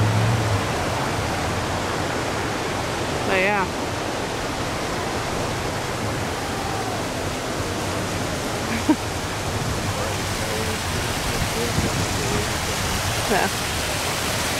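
Steady rushing wash of river water flowing alongside a riverwalk in Estes Park, Colorado, continuous and close, with brief soft voices and a footstep-like click or two over it.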